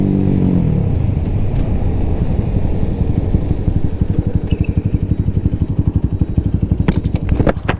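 A KP Mini motorbike ridden in the rain, its small engine thrumming close by in a steady, throbbing putter that idles down and then pulses rhythmically, with a few faint clicks near the end.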